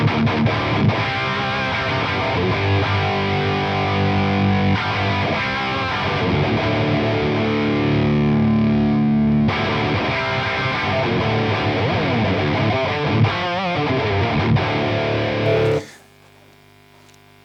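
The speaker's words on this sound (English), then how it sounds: "I mic'd my 4x12 cab, which is in another room over there, with a ribbon mic." Distorted electric guitar played through a 4x12 cabinet miked with a ribbon mic in another room, thick sustained chords and riffs ringing loud and steady, then cutting off to a low hum.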